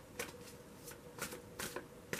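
Tarot cards shuffled by hand in a few quick riffling bursts, crisp and close but fairly quiet, with nothing else heard.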